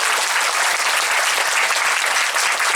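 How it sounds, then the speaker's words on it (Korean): Warm applause from an audience at a baseball talk, thick and continuous clapping at full level from start to end, no voices heard. "여러분 뜨거운 박수 한번"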